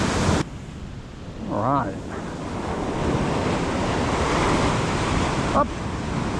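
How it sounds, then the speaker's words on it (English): Ocean surf rolls and breaks steadily onto a beach during a morning of fishing, a continuous broad wash with wind buffeting the microphone, while a voice speaks briefly over it. "That wave's just starting"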